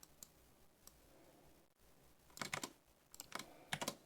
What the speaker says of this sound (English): I'm gonna type it over over here, and then I'll paste it.